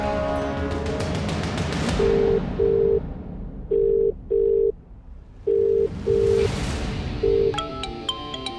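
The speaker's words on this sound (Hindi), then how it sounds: "देविका जी बार बार हमारा फोन क्यों काट रही है?" A telephone busy tone after a call is cut off, several evenly spaced loud beeps repeating alone, preceded and followed by soft background music swells.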